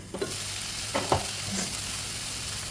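Bottle gourd with salt is stirred in a hot pan, a couple of quick scraping strokes over a steady close sizzle.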